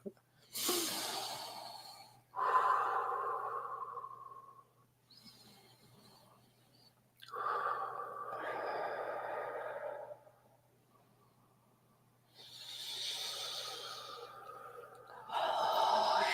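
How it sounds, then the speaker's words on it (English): Deep breathing, several slow inhales and exhales heard up close, each long airy breath separated by short quiet pauses. "Inhale deeply 3 times. Exhale, of course."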